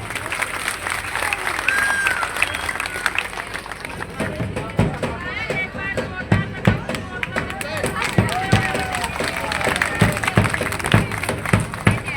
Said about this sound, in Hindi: जोरदार इनके लिए तालियां हो।